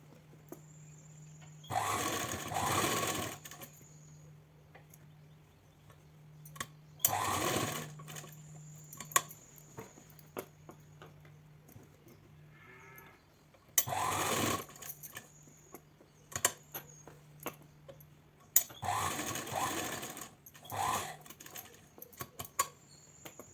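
Close electric sewing machine stitching a chudithar neck in four separate whirring bursts of a few seconds each, with quiet handling of fabric and faint clicks between runs.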